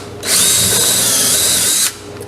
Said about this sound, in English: Now it's just a question of putting the screws in.